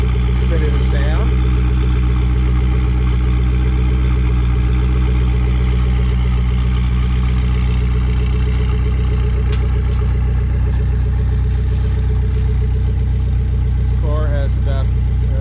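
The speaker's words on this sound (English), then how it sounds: "do a little walk around for you so you can hear the idle" A 1998 Lotus Esprit V8 idles close by, a steady loud low rumble with even engine pulses throughout, while a faint voice or two briefly murmurs in the background.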